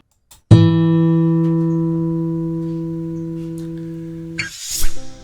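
A steady electronic test tone one octave higher, starting with a click and sustaining evenly for about four seconds while slowly fading, followed by a short burst of noise.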